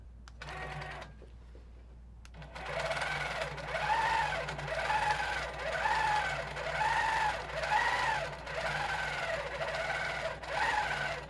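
Sewing machine running steadily at 12 stitches per inch during free-motion quilting, a close, quiet rhythmic whirring hum with regular cyclic swells that starts after a brief pause and then runs continuously.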